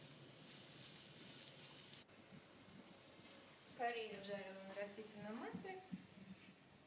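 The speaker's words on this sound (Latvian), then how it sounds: "Puru sakcep eļļā." Leek frying in oil for Scotch eggs, giving a steady, bright sizzling hiss at close range; a voice starts talking partway through and continues over the quieter frying.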